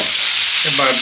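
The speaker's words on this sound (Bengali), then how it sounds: "বাদামটা ভেজে নিচ্ছি অল্প" Peanuts fry in hot oil in a pan with a loud, steady close-up sizzle, and a short scrape of stirring comes near the end.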